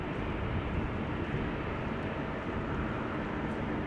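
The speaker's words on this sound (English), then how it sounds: "Helvetic Embraer 190 to Zurich" A Helvetic Airways Embraer 190 jet departing for Zurich from Amsterdam Schiphol gives off a faint, steady, distant engine rumble that stays broad and even.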